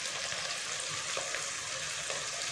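Ingredients for chicken manchurian fry in a pan, with crushed red chili just added. A steady, soft sizzle hisses continuously with no talk.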